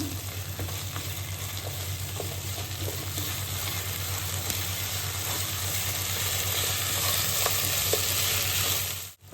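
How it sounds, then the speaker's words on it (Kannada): Chopped tomatoes and other vegetables for a Meghana-style veg biryani sizzle steadily in a hot pan while being stirred, a dense continuous frying hiss with faint scraping, no voices. "ಈಗ ಟೊಮೆಟೊ ಹಾಕ್ಕೊಳ್ತಾ ಇದ್ದೀನಿ. ಇದೆಲ್ಲದಕ್ಕೂ ಒಂದ್ಸಲ ಮಿಕ್ಸ್ ಕೊಡೋಣ."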